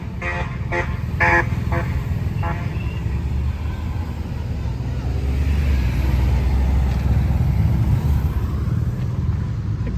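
Heavy rush-hour road traffic with many cars, a steady broad rumble of engines and tyres throughout, with a few brief horn-like tones early on and voices faintly underneath.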